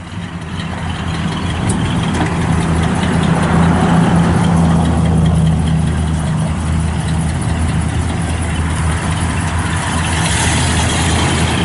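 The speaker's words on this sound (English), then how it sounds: "Got a nice dual exhaust." A 1970 Buick Skylark convertible idles steadily through its dual exhaust, a continuous low rumble with an even, throaty pulse held close and loud throughout, with no talking.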